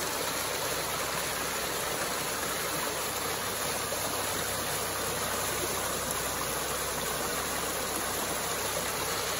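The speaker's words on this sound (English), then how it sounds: "here's a neat little water drainage" Small drainage stream crossing an Appalachian Trail path, a steady broadband rush of flowing water, continuous and even with no breaks, moderately loud and close.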